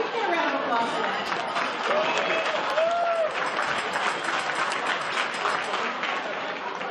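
A banquet audience breaks into sustained applause for New York State legislator Ron Kim, dense steady clapping mixed with crowd chatter and a few voices, filling the room for several seconds.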